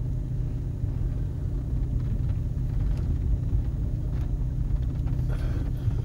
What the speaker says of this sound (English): Just wait for a car to pass.